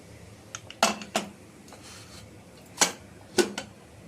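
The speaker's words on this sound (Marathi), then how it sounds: "आता झाकण काढून बघूया आपण" A pressure cooker lid comes off after cooking toor dal varan: a few sharp, brief metallic clinks and knocks, spaced apart against a quiet background.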